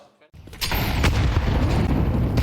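Tech 9 pistol gunfire in a professional Counter-Strike 2 esports match, a sudden close burst of sharp shots after a brief silence, with a caster talking underneath.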